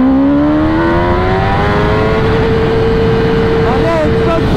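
A motorcycle named Pushpa accelerating hard in first gear, engine whine climbing steadily in pitch under strong wind roar, loud and close throughout.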